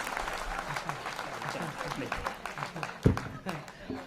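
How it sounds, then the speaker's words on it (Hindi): Applause from a Hindi-speaking audience in a hall, a dense continuous patter of many hands throughout, with a loud thump near the end and some voices mixed in. "एक बार पूरा सदन जोरदार ताली बजाकर बताइए"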